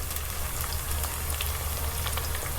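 Green chillies fry in hot oil for a fish curry, giving a loud, dense, steady crackling sizzle with no pauses and no voices.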